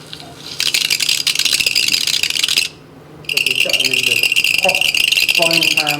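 Water-filled hydrogel beads bounce and skitter on a hot frying pan, a dense, bright crackling rattle with a short pause midway, while someone talks over it.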